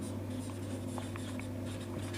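Chalk or marker scratches across a board during a physics lecture on mirrors, with short scraping strokes over a steady room hum and no speech.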